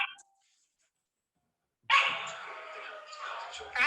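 A dog barks and yips in short bursts from a phone recording, fairly close, after a brief silence, with faint voices mixed in.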